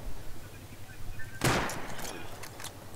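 A sniper rifle shot in an online shooter game, one sharp loud crack partway through with a short rolling tail and a few fainter reports after, over a low game ambience.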